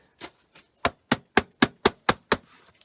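Hammer blows strike a part on the front end of a tractor, likely a John Deere 4640 or Ford TW-20, 8600 or 9600, during spring grease service: two light taps, then seven loud, evenly spaced metallic knocks, close up and alone.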